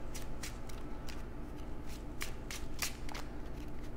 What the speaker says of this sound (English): we are going to shuffle our deck and get started